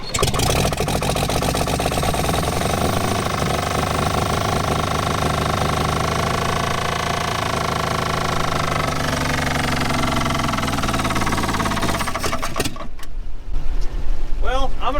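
A junkyard 1962 Chevrolet Impala engine runs after sitting over 25 years, loud, rough and uneven with a rattling, misfiring clatter up close, then cuts off near the end; voices talk over it.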